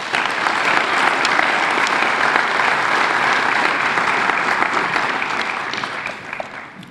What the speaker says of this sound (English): please give a round of applause to Elijah Brooks.